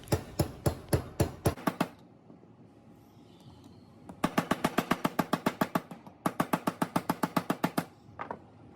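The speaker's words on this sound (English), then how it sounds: "You'll use the rubber mallet and the hammer to try to jimmy the bearings down." A go-kart axle bearing is hammered down with a rubber mallet and a hammer, in two runs of loud, evenly spaced close strikes separated by a short pause, with a last couple of softer taps.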